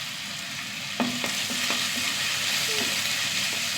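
Onion and ginger fry in a pan with a steady, close sizzle, broken by a few light stirring scrapes and taps; no voices.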